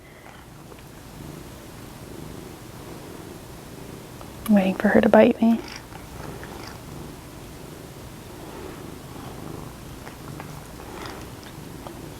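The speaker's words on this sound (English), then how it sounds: "Nobody's gonna be able to hear what I'm saying because you're meowing the whole time." A sassy pet cat sitting on a chair in a crochet yarn room purrs softly and keeps up a low rumble, with a brief louder vocal burst midway. Someone talks over it, close by.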